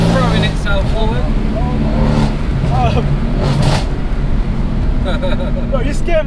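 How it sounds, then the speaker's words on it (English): A 620 bhp Mercedes C63S AMG V8 pulls hard in fifth gear, its loud, steady engine drone and road roar filling the cabin while people talk over it. "And you've got that V8, so you've got more torque, man, more displacement"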